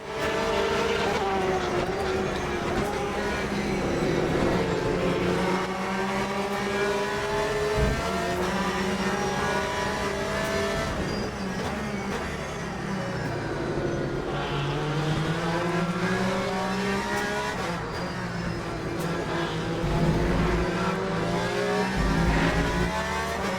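Race cars, including a Porsche and a Ferrari, start a race in the video game Le Mans Ultimate, with layered engine tones rising and falling through gear shifts in a loud, continuous roar.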